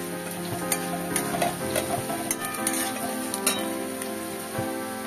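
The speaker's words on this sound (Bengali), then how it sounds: "আচ্ছা, গ্রেটেড আদাটা দিয়ে দিলাম, একটুখানি ভাজা ভাজা হবে।" Grated ginger and a pinch of asafoetida fry in a pan, giving a steady close sizzle broken by scattered clicks and scrapes of stirring, with no voices.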